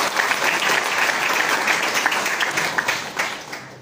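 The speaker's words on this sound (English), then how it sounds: "can we have a round of applause for that?" Sustained audience applause from a crowd at a college networking session, steady dense clapping that fills the whole stretch and tapers slightly at the end.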